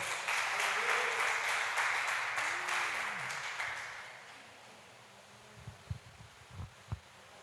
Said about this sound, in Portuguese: Você pode aplaudi-lo nessa noite